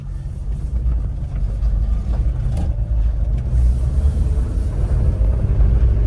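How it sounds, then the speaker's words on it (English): A Daihatsu Atrai with a manual clutch and four-wheel drive, driven up and down a stretch of road, gives a steady, loud low engine and road rumble that holds constant throughout from inside the cabin. "Let me just drive it up and down real quick."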